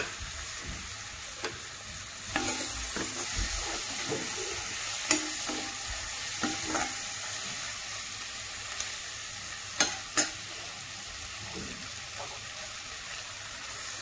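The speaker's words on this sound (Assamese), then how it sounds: "এয়া বিলাহীখিনি লৰাইছোঁ।" Thinly sliced tomatoes fry in a pan for chickpea dal, giving a steady close sizzle while a spoon scrapes and stirs, with several sharper clinks and knocks scattered through.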